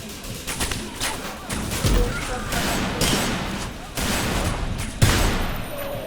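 Rapid gunfire rattles in the video game Severed Steel, with repeated bursts and sharp shots over a busy game soundtrack, and a person talking over the action.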